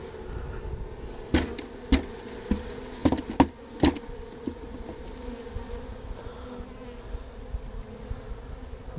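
Honey bees buzzing around a hive during a swarm capture in Texas, a steady insect hum running throughout with several sharp knocks and taps on top of it.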